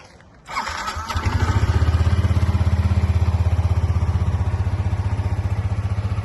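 A 2018 Yamaha NMax 125 ABS scooter starts up and settles into a steady, close engine idle with an even, pulsing mechanical beat throughout.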